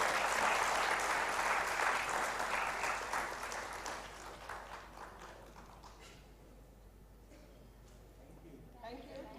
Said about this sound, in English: A huge round of applause, team.